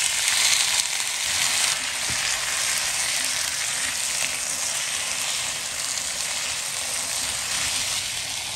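Chinese yam and pumpkin stir-frying in a hot wok, a loud continuous sizzling hiss with a brief burst of scraping and tossing near the start, no talking.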